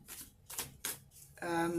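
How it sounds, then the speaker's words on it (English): Three or four quick papery riffles of a Herbal Tarot card deck being shuffled by hand, close and crisp, followed by a voice starting to speak at the end. "I have shuffled. Just going to give it one last little go"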